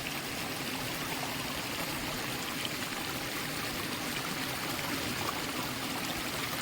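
A forest stream flows on a mountain trek, a continuous even rushing and trickling of water, steady and moderately close with no voices.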